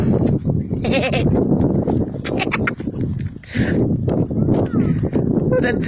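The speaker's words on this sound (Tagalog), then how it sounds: "Uy, may mga kambing oh." Several farm goats bleat repeatedly at close range, loud overlapping cries in irregular bursts over a rural outdoor background.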